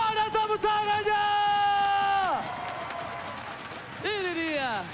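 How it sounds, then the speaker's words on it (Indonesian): Crowd cheering and clapping in a large venue at a Mobile Legends esports playoff match, with loud whistling tones sliding up and down over the applause. "mana tepuk tangannya?"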